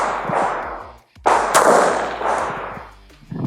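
A single loud gunshot from a Rock Island Armory TAC Ultra 1911 pistol, sharp crack followed by a decaying echo, preceded by a brief earlier report.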